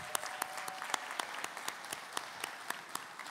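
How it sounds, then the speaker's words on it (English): Conference audience applauding for an event planning committee leader at an airport business diversity conference, steady clapping with a few sharp, distinct claps standing out near the microphone. "You can give her a round of applause."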